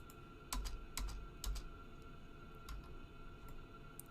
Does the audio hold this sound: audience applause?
no